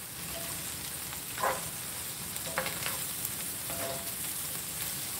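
Refried beans fry in hot oil in a pan, a steady crackling sizzle with a few louder pops and stirring scrapes, heard alone without talk.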